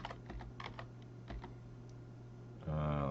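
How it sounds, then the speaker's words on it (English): Numbers being typed on a computer keyboard during a programming exercise on arrays: a short run of light, separate key taps over a steady low hum, then a louder tonal burst near the end. "now we can type 10 numbers"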